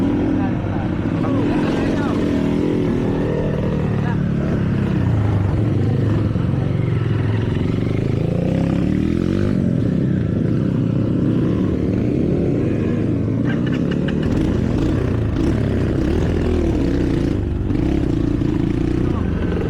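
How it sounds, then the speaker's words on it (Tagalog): A dirt bike engine on a mountain trail runs rough and uneven, droning loudly and close with wavering revs for the whole stretch, while people talk over it. "Ang pangit tumakbo ng motor ko."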